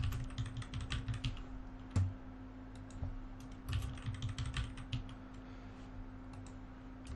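Keystrokes on a computer keyboard come in quick irregular bursts with short pauses while a Windows Server 2019 user account is set up, close and moderately loud over a steady low electrical hum.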